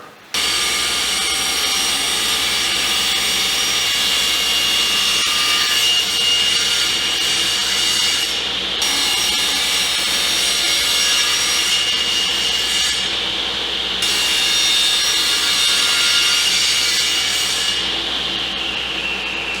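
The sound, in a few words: sawing 1.25 inch wood strips for window muntins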